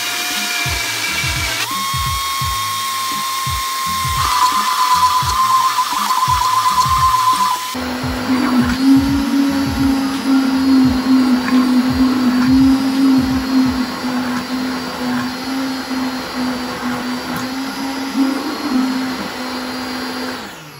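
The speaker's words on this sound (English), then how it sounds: "we're now about to emulsify the peppers together in the blender" A blender whirs loudly as it purées peppers for birria consommé, starting at a lower pitch, then jumping to a steady high-speed roar partway through and running continuously until it cuts off at the end.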